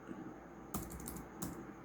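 A couple of sharp, separate keystrokes on a computer keyboard while text is typed into a PowerPoint slide, quiet and close against a soft room hush.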